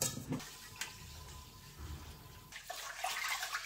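Water runs and splashes in a sink as basmati rice is washed, with a few clicks and shifts; fairly quiet and close.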